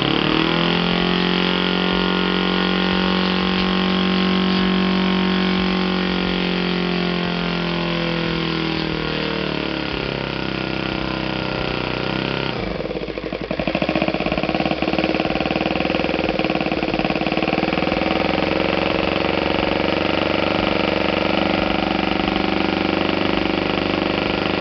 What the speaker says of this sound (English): Ignition is off, but engine is still performing